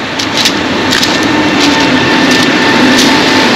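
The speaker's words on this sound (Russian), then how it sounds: "Поезд сверху идет." A train passes overhead on a bridge above a beach, a loud, continuous rumbling and rattling roar with scattered clanks that fills the whole stretch.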